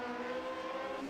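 A vintage Grand Prix Legends race car in the iRacing game slows hard at Watkins Glen, a brief, steady, buzzing engine tone with faint tyre noise, without speech.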